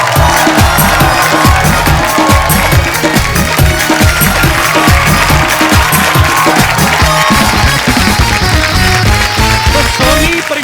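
A studio audience on a comedy talk show cheers and claps loudly and continuously over dense, booming music, with crowd noise filling the whole stretch.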